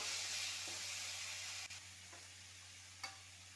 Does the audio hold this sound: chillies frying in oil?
yes